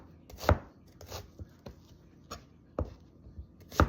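A knife chops onion on a cutting board for sinigang soup: irregular, close, crisp thuds, about eight strikes spaced unevenly, with quiet kitchen ambience between them.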